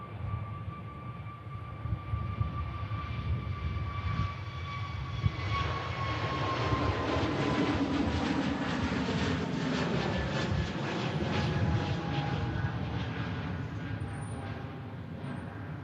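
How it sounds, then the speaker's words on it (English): Pegasus Airbus A321neo taxiing past at Manchester Airport, its engines producing a broad roar with a steady whine that slowly drops in pitch as it rolls by fairly close, building gradually and staying loud without any talk. "There's the Pegasus A321neo."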